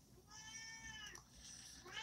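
A hungry house cat gives one long, drawn-out meow, close but fairly quiet, then a second rising meow begins as the sound ends.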